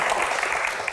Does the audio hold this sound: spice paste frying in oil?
no